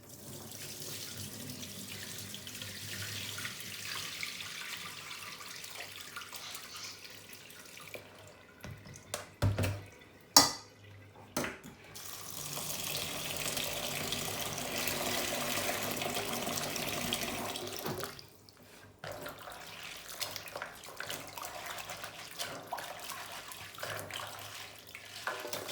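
Kitchen tap water runs steadily into a sink while peeled beans are rinsed, a soft continuous hiss with a few brief louder splashes and clatters near the middle, then the flow quietens.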